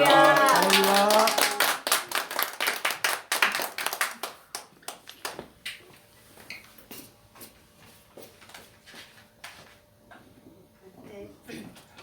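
A church congregation at an afternoon praise service bursts into loud, dense clapping to welcome a speaker, with a voice over the first moments; the applause thins into scattered claps and faint taps within a few seconds.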